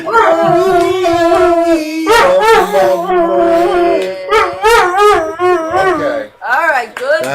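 A dog howls long and loud with wavering, sliding pitch, joining in alongside human voices that sing or howl with it, in a lively indoor show setting.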